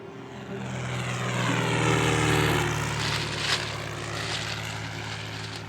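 A propeller airplane drones overhead, its engine swelling as it passes and then slowly fading, a continuous buzzing hum.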